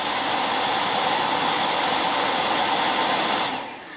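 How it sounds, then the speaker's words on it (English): A Dyson cordless vacuum cleaner hums on its low power setting, a steady, close airy whine that holds evenly and then drops away sharply near the end. "Now I'm going to turn the Dyson on in low power."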